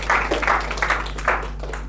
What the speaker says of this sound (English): Some high quality clapping